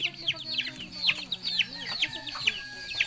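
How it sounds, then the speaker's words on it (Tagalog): Chickens cluck repeatedly in short chirpy bursts against a low background murmur, steady and moderately near. "Mayroon, mayroon manok. May manok."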